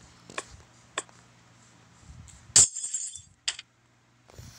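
Glass blocks break in the video game Minecraft, with several short crisp clinks and one louder shattering crash near the middle over a quiet low hum.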